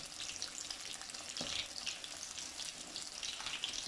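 Pieces of Rahu fish fry in a pan of hot oil, giving a continuous soft sizzle and crackle at close range with one brief clatter midway, with no talking.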